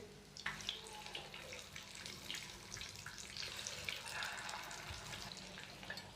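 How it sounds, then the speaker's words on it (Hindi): Chicken resha kababs fry in a pan over a medium-low flame, giving a steady crackling sizzle with scattered pops, close and continuous throughout, with no voices. "तो अभी हम इनको 1 मिनट के लिए मीडियम से लो फ्लेम पे इसी तरह फ्राई करेंगे"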